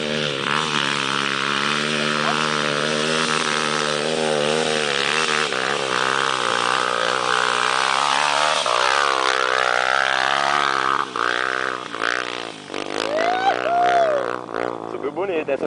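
Trail motorcycle engine revving hard as the rider opens the throttle on a dirt trail climb, a loud sustained whine that rises and dips in pitch, with people talking over it toward the end.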